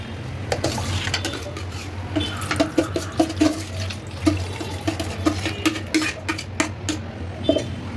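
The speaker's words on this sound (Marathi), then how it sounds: "त्याच्यात पाणी टाकू थोडंसं" Water runs and splashes into a metal pan of mashed pav bhaji vegetables, with clinks of cookware and irregular knocks over a steady flowing hiss.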